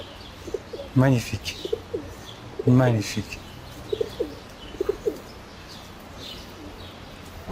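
Pigeons coo in soft repeated rolling calls around a homeless woman feeding them bread on a street, with faint chirps and a brief wing flutter while someone speaks French nearby.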